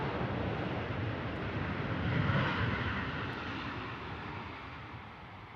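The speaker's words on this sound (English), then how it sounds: "Ryanair 737 coming in" A Ryanair Boeing 737 comes in to land at London Stansted Airport, its engines a broad, steady roar from some distance that swells slightly and then slowly fades.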